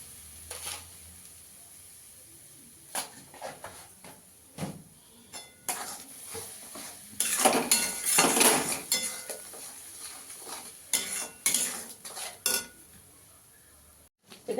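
A spatula scrapes and clinks against a pan while a paste of ginger, poppy seeds and green chilli is stirred and roasted for potato dum, with sharp intermittent metallic knocks over a soft sizzle, close up and growing busier.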